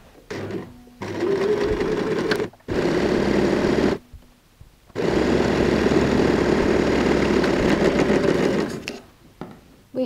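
A sewing machine runs in three long bursts with short pauses, stitching the side seams of a curtain-fabric bag lining and starting and finishing each seam with a backstitch, loud and close.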